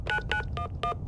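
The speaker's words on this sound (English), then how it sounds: "I wonder if it dials out." Cellular phone dialing in the Ace Ventura retro adventure game: five evenly spaced electronic keypad beeps, clear and close, over a faint low background hum.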